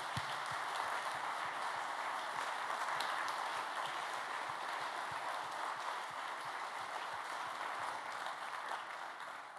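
Sustained applause from a large audience at the Area41 2016 closing ceremony, a dense steady wash of many hands clapping that holds at even loudness for nearly ten seconds before tapering slightly.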